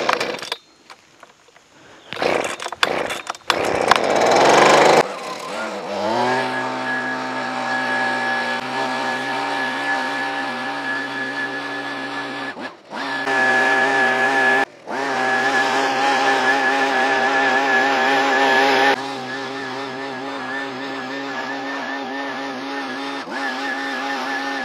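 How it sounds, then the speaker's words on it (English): A small two-stroke engine, a leaf blower used for clearing clogged gutters, sputters through several pulls and starts, then settles into a steady loud whining drone with brief dips where the throttle drops. "to clean out my gutters, like a lot of people, I use a leaf blower."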